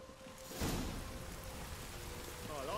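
Steady rain falling in the video game The Witcher 3, a soft, even hiss of rainfall heard quietly throughout with a brief louder burst near the start.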